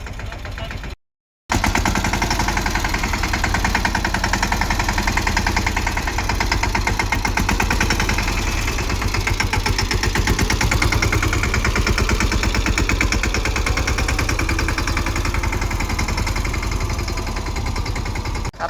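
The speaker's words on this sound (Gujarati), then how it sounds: "ચાલુ કરી દીધું ટ્રેક્ટરમાં માંડવી વાવવાનું" A tractor engine chugs steadily at close range in a peanut field during sowing, a loud, continuous rapid knocking rhythm that runs almost unbroken after a brief gap near the start.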